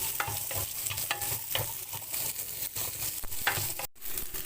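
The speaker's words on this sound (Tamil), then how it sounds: "வெங்காயம் வெங்காயம் நல்லா வதக்கணும்" Onions sauté in hot oil with mustard seeds, pepper and cumin in a pan, giving a steady close sizzle broken by repeated stirring scrapes, with no talking.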